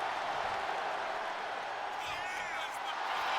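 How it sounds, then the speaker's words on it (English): A wrestling arena crowd in the WWE 2K25 video game roars steadily as a dense, continuous wash of cheering, with a few whistles rising through the noise. "Kyrie Sane getting the crowd riled up right now."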